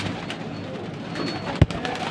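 Pigeons kept for sale coo softly and steadily close by, with one brief thump partway through.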